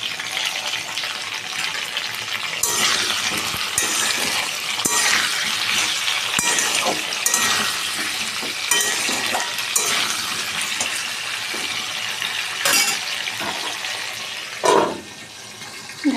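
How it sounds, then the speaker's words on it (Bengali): Sliced potatoes fry in a hot pan, salted as they cook, giving a steady, dense sizzle and crackle throughout, with a few louder spatters and a brief lull near the end; no one speaks. "আলুগুলো ভাজছে"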